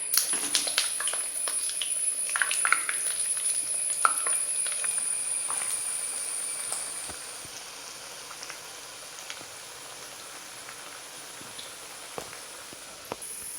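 Chicken rolls frying in hot oil in a pan, a faint bubbling sizzle with scattered pops and crackles, slightly louder at first then settling to a quieter steady fry.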